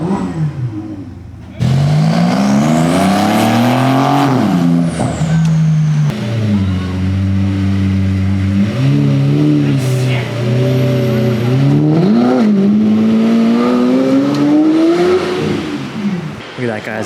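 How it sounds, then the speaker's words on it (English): A Bugatti Chiron Pure Sport supercar passes on a street in Carmel during Car Week, its engine loud and close, revving up and down in repeated surges with rising and falling pitch for most of the stretch. "And look at that, Chiron Pure Sport."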